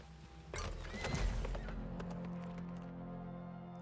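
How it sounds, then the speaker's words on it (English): A horse whinnying and its hooves clopping as it comes back in the video game Weird West: a sharp neigh, then a run of close hoof thuds that settle into a low steady hum. "We'll have to wait till the horse comes back to us,"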